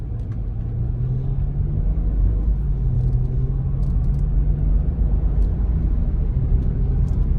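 A 2006 BMW 325xi with 68k miles on a test drive after repair, heard from inside as a steady, loud low engine and road rumble that holds evenly throughout with no talking.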